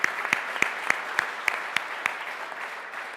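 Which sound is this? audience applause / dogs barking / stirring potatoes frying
audience applause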